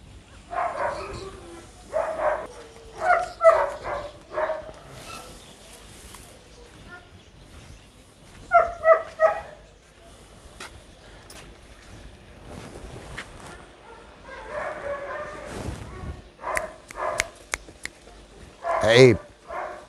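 A hyper, excited dog on a leash outdoors, whimpering and giving short yips in bursts, eager to run and play, close by, mixed with wind noise and someone talking throughout.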